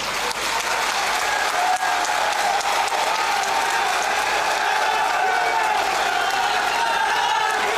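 A large crowd at a Rajasthan election rally applauds loudly and continuously, a dense wash of clapping with some cheering mixed in, sustained at full strength the whole time.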